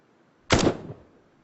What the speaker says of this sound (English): Take, for example, the sound of a gunshot